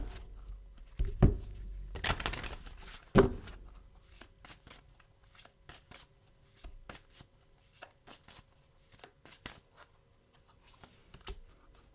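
Tarot cards being shuffled by hand for a card draw, a loud burst of riffling and flapping early on followed by a run of lighter, scattered card taps and slides, close up with no talking.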